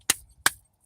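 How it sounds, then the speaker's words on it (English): Three sharp knocks on a deck of oracle cards, evenly spaced, crisp and close, with brief silence between each. "let's give it a couple"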